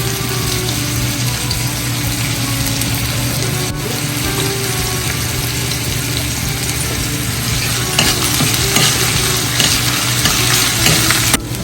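Onion with a garlic, green chili and coriander paste fries in a pan for Kokani masala crab, a steady close sizzle with occasional stirring scrapes and no talking.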